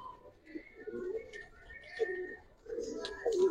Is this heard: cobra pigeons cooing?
yes